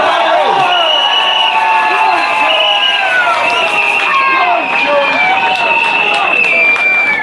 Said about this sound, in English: Big round of applause for Shaun Bailey.